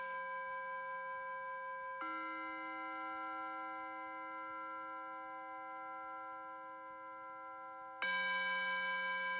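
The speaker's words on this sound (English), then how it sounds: "Continue with the bells." Struck meditation bells ring out during a yoga breathing session, sustained bright tones decaying slowly, with fresh strikes at the start and twice more, clear and alone with no voice over them.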